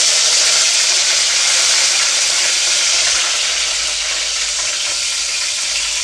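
Cumin, mustard seeds and curry leaves sizzle loudly in hot oil for a vegetable sagu, a dense, steady hiss that continues throughout and fades slightly toward the end.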